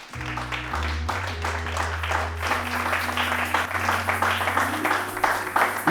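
A church congregation applauds and cheers during a sermon, a steady, dense wash of clapping holding for several seconds with a low sustained organ or keyboard chord underneath.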